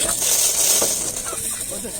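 Chickens cluck at an outdoor poultry market in Sakarya, a few short calls rising from a busy, steady crowd murmur while people talk nearby.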